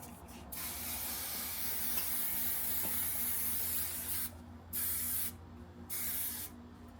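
Sebastian Shaper Plus hairspray is sprayed onto wig curls in a long steady hissing burst, followed by several short separate spritzes, close and moderately loud.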